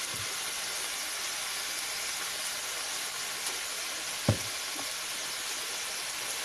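Chicken seasoned with salt, onion powder and pepper fries in a pan with a steady, close sizzle and hiss throughout, broken by one brief knock near the end.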